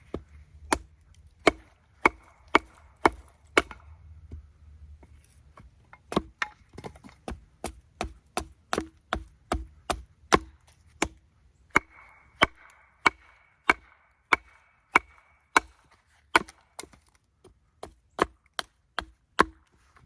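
Wood being chopped with a carving hatchet while shaping a simple eating spoon, a long series of sharp, close chops in an uneven rhythm, some quick pairs and some spaced pauses, with no talk.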